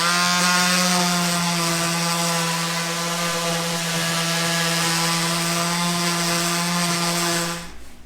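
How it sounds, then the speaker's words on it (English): An orbital sander sanding wood runs continuously with a steady droning hum and buzzing overtones, holding level for several seconds before cutting off near the end. "We're going to use the orbital sander."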